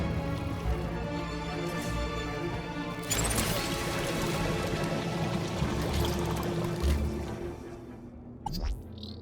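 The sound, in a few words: water refill pouring in the video game Beyond a Steel Sky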